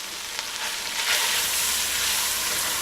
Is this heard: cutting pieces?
no